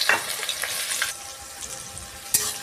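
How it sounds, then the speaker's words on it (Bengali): Chopped onion fries in hot oil in a wok over whole garam masala and black peppercorns, giving a steady, close sizzle with crackling spits and a few sharper pops. "পেঁয়াজটাকে একটু ভাজা ভাজা করে নেব।"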